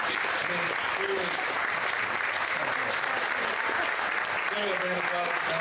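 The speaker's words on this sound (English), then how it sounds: "please, stand up and applaud Vice President Mike Pence" An audience applauds Vice President Mike Pence at a voter event in Charles City, Iowa. The clapping is continuous and dense, with scattered voices and a little talk blended into the crowd noise throughout.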